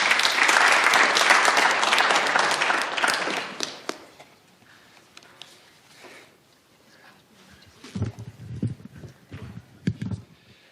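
Audience applause welcoming a speaker at a talk on racial capitalism: loud, dense clapping from a crowd for about four seconds that tapers off, followed by scattered footsteps and light knocks as the speaker reaches the podium.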